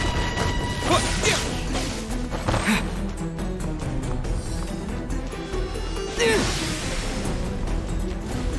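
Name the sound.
Hilichurl Terra Smash attack from video game Genshin Impact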